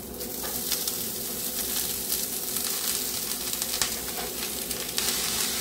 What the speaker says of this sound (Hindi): इसमें हम कटे हुए पालक को ऐड करेंगे।